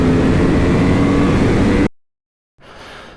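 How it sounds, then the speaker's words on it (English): A 2014 Honda VFR800 motorcycle engine roars loudly and steadily up close, cuts off abruptly into silence, then returns at a lower, quieter idle. "Let's show you guys how fast this bike is"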